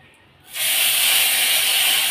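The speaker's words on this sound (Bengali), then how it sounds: "এখন আমি একটু জিরে ফোড়ন দিলাম" Cumin seeds dropped into hot oil for tempering, during a Bengali fish curry with radish greens, cauliflower and potato, burst into a sudden loud sizzle after a short quiet pause and keep hissing steadily.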